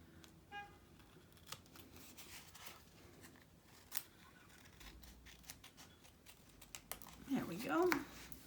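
Scissors snip magazine paper strips up close, a few quiet separate cuts and paper rustles in a quiet room, with a brief voice near the end.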